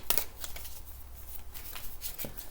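Tarot cards riffled and shuffled in a few quick bursts of crisp papery flicks, close up, with no voices.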